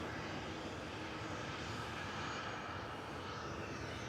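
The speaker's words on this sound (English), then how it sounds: "So, Ryanair's the next to taxi down and then turn around." Steady broadband jet engine roar from a Ryanair plane taxiing at Manchester Airport, a constant distant-to-moderate drone with no breaks and no speech over it.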